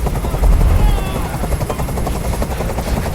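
A helicopter in Detroit Become Human, a loud steady rotor drone with a pulsing chop, close and continuous throughout.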